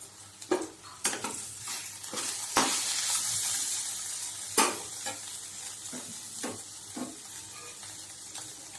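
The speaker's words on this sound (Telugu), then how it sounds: "అరటిపై ముక్కలు ఒక రెండు నిమిషాలు మగ్గనిద్దాం" Raw plantain pieces cook in a pan of dried-prawn curry, with a soft steady sizzle broken by about a dozen sharp, irregular spatula scrapes and clinks against the pan, close and without talk.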